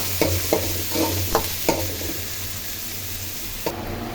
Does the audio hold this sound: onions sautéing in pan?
yes